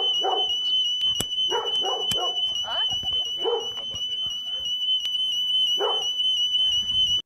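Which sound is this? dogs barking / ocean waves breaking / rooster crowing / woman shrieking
dogs barking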